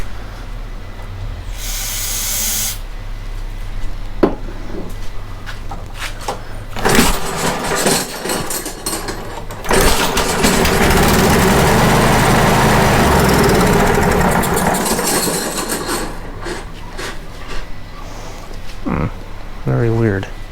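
A Briggs and Stratton dethatcher engine is pulled and sputters before catching and running with a loud, steady roar for several seconds, then it rattles and fades.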